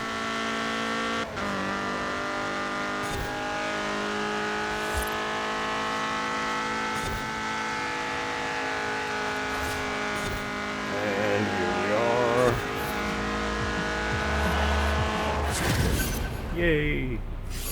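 Alfa Romeo Giulia Quadrifoglio racing in Forza Horizon 4 on a custom track, its engine revving loudly and continuously with rising and falling pitch through gear changes, with brief tire squeal and a gust of noise near the end.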